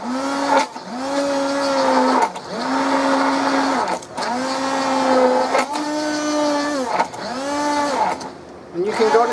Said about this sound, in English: Or just in a blender. Okay, the bananas are totally disintegrated into this.